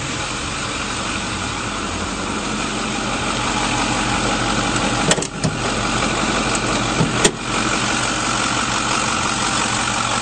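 A 2008 Ford F-450 Super Duty diesel pickup idles steadily with a close, loud, even rumble under the open hood. Two brief clicks break the drone midway.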